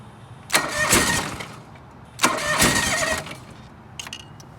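A cold John Deere 445 tractor engine with bad spark plugs cranks in two loud bursts of about a second and a half each, failing to catch, followed by a faint brief rattle.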